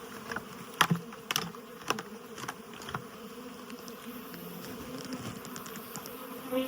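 Honey bees from a released hive swarm and buzz close by in Phoenix, a continuous droning hum with sharp clicks and taps scattered through it, no voices.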